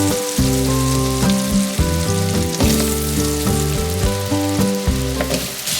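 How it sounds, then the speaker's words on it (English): Potatoes fry in olive oil and butter while being stirred, a steady sizzle running beneath loud tonal background music throughout. "I'm gonna stir these around and coat them with our olive oil and butter."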